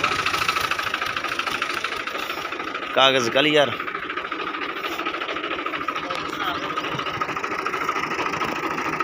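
A tractor with power steering, half-worn rear tyres and a roof idles with its diesel engine in good order, a steady mid-pitched rumble that runs throughout while someone speaks briefly near the start.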